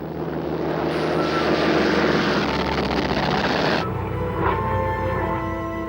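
Loud propeller aircraft engines drone and roar in a World War II air attack on ships, a dense continuous rumble that cuts abruptly to a different, lighter engine hum partway through.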